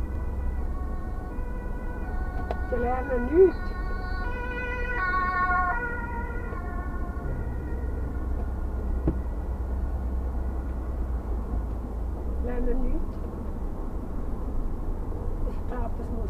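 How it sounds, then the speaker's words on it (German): An ambulance siren wails in rising and falling tones as it passes through street traffic, heard from inside a car beneath steady engine rumble, while someone talks. "Der Krankenwagen kommt, die machen wieder nicht Platz."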